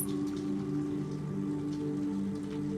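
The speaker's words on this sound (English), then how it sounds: "Look how it started raining." Rain falling steadily outdoors, a dense continuous patter at moderate level with a low hum underneath, no talking.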